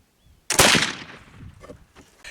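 A black powder gun loaded with homemade salt cedar powder fires a single loud, sharp shot that booms briefly and then decays into a fading echo, heard alone outdoors.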